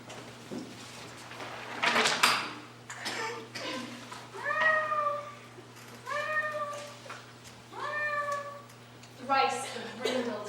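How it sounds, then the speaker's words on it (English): A cat meows three times at steady intervals, each call rising then falling, fairly close, with a voice and a low steady hum in the background. "Thrice the brindled cat hath mewed"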